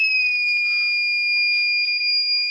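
A steady, high-pitched electronic buzzer tone on a moisture-sensing IoT hardware project sounds continuously and loudly, unbroken with no other sounds.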